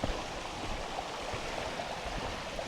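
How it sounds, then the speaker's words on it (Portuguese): Water from several springs runs down near a waterfall in Portugal, a faint, steady broadband rush with no breaks and no voices. "E tem muita água descendo também, dá para ouvir."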